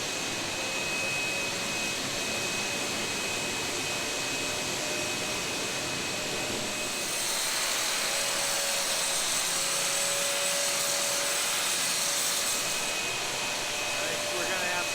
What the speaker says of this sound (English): So this is where they're using their hand grinder and grinding.